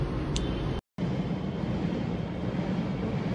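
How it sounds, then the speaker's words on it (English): A monorail passes on its elevated track in Bukit Bintang, Kuala Lumpur, giving a loud, steady rumbling roar with a hiss on top. The noise holds constant, cut by one brief dropout near the start. "that's the sound of that monorail."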